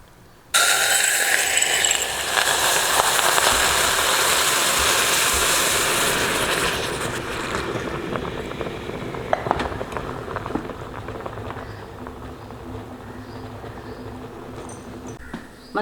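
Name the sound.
boiling tea poured into heated clay cup, sizzling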